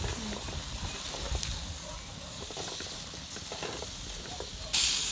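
Cashew nuts roast over an open fire as the flames flare up, giving a steady crackling hiss that swells into a louder, brighter rush of fire in the last half second.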